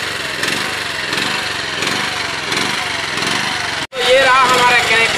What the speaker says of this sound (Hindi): अब हम इस ड्रिलर को यूज़ करेंगे ड्रिल करने के लिए।